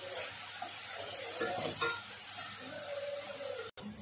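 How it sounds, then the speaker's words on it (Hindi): Onion paste fries in a pan until lightly browned, giving a steady, moderately loud sizzle with soft stirring scrapes midway and a brief cut near the end; no one talks. "प्याज भी हल्के से ब्राउन होने देना है।"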